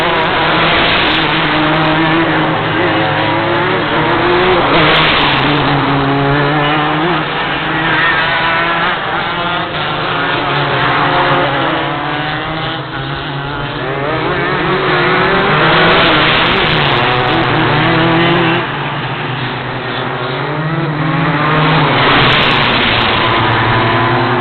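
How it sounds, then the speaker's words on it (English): Racing engines, likely karts at a championship round, roar loudly and continuously as they pass on track, rising and falling in pitch with repeated revving sweeps and no talk. "enjoy the sound of supercars"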